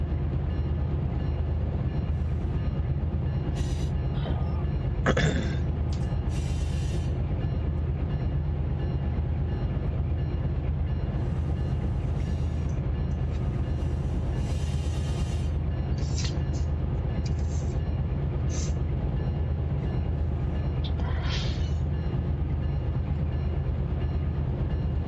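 Freight train locomotive climbing a 1.10 percent grade at full throttle in notch 8 at 26 mph, heard from inside the cab as a heavy, constant diesel roar and rumble with occasional clanks, rattles and brief hissing squeals.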